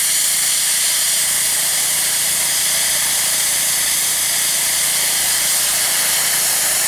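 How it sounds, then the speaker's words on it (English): An airbrush spraying paint onto model railway track, a steady, loud, close hiss of compressed air that runs unbroken for the whole stretch, with no voices. "I'm going to get as close as I can with my airbrush."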